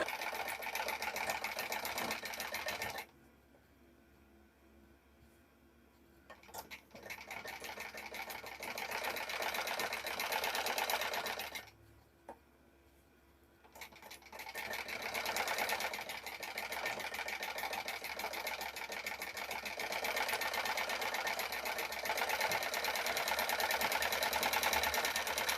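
A sewing machine stitches slowly along a folded blouse strip in three long runs separated by quiet pauses. The steady motor hum and needle rhythm are close and loud, with no talking.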